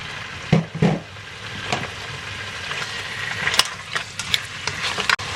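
Seafood sizzles and crackles in oil in a hot pan, with a few scraping knocks of a utensil stir-frying, steady frying hiss throughout with no talking.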